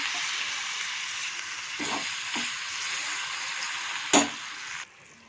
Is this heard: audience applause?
no